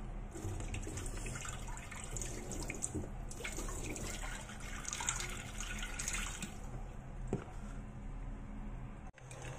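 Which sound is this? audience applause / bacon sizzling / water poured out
water poured out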